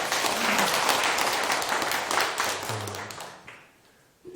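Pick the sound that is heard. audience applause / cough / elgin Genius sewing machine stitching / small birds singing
audience applause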